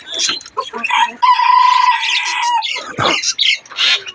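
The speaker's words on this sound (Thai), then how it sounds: "ไก่มินิโคชินนะครับ" A Mini Cochin rooster from a breeding pair crows loudly and close by in one sustained call, framed by short clucks and squawks from the chickens.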